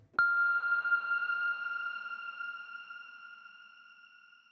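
A synthesizer cinematic ping strikes once with a sharp attack, then rings as a clear sustained tone with a few pure overtones, slowly fading over several seconds in otherwise silence.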